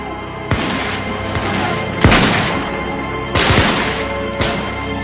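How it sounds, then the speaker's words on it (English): Loud gunshots boom a few times at uneven intervals, each blast followed by a lingering rumble under steady noise, in an exchange of fire between Minutemen and British soldiers. "In the exchange of gunfire"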